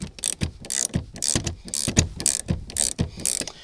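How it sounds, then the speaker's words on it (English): A ratchet torques down a rear shock absorber on a 2006 Toyota Sienna, sounding as rapid repeated bursts of clicking pawl strokes, close and loud, with short pauses between swings. "I'll use two hands to torque that down"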